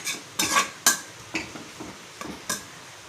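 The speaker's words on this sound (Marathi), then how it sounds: "तर बघा, याला मस्त मी भाजून घेत आहे." Besan being dry-roasted in a pan over low heat, stirred with a spoon in a series of soft scraping strokes and light clinks against the metal, close up, with no talking.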